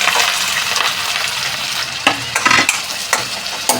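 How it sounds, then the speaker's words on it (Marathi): Spices crackle and sizzle as they hit hot oil for tempering in a Maharashtrian sandge masala curry, a steady loud frying hiss broken by several sharp spits and pops. "आता आपलं तेल तापलेलं आहे. आता आपण फोडणी देऊया."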